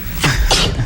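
One short, explosive sneeze bursts out in a television game show studio, followed by a second, quieter burst; both are close and loud.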